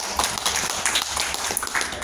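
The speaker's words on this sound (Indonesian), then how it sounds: "tepuk tangan dulu nih buat" Audience applause at an interactive community talk: a dense, steady patter of many hands clapping at moderate loudness for about two seconds, with faint voices mixed in.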